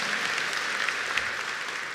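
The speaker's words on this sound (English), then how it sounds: "Please give Mr. Irfan Sabir a warm round of applause." Applause from a graduation audience welcoming a speaker: dense, steady clapping that fills the whole moment at even loudness, with no voices over it.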